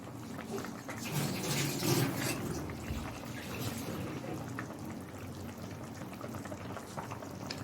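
Chhana kofta curry with potatoes bubbling steadily in a pan, a continuous soft boil with low gurgles, fairly quiet and without talk.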